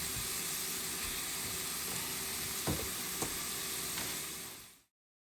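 Patties and onions sizzle steadily in a pan with a bright, continuous frying hiss and a couple of small pops, heard alone and fairly quietly before cutting off abruptly.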